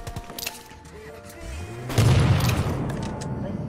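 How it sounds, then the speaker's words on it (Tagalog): Gunfire and a heavy explosion in the battle-royale shooter Rules of Survival, with scattered shots and clatter, then a deep booming blast at about two seconds that rumbles and decays, with players talking faintly. "Sumabog."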